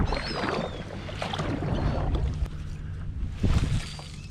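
Kayak paddle strokes in open water while fishing near Crystal Beach, Texas, a few soft splashes and water swishes up close, with wind and a louder surge of water toward the end.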